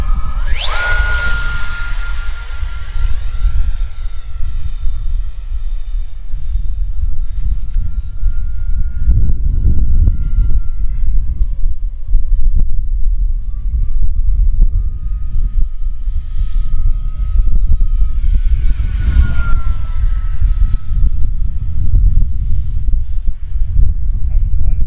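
E-flite F-14 twin 40mm ducted fan RC model jet flying on a windy day, its high whine rising and falling as it makes two loud close passes over steady wind rumble, with a voice talking.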